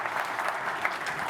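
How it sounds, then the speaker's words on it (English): Audience at a Windows technology conference keynote applauding a gentleman, with a dense, steady burst of clapping from a crowd, fairly close and even throughout. "hey, applause for that gentleman"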